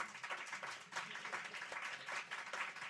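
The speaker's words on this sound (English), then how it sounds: "let's give them a round of applause" Audience applause for a panel at a privacy policy event, steady dense clapping sustained throughout at moderate distance, filling the room without a break.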